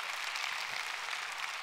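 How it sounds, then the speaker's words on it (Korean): Applause breaks out for guests at a Sunday church service. The congregation claps in a soft, steady wash that sounds somewhat distant. "네 분 한번 일어서시면 박수해 주시겠습니다"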